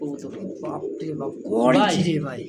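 Pigeons coo at a busy pigeon market, soft rolling calls repeating near the microphone and swelling louder toward the end, mixed with a voice talking over them.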